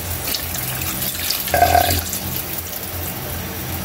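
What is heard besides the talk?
water poured into pot of carabao meat soup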